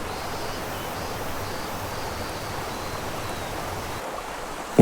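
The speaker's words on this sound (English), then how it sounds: "More gusts of wind" In a Nintendo 3DS game, gusts of wind make a soft, steady, airy whoosh that holds at an even level, fairly quiet, with no voices.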